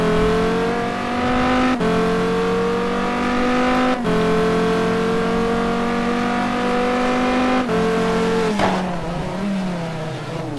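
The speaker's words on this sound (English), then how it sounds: "Let's follow Johnny here as he completes this lap in the Viper." Dodge Viper race car in Gran Turismo 2 lapping the Spa circuit, a loud sustained engine howl rising in pitch through the gears with brief dips at each shift, up close and continuous.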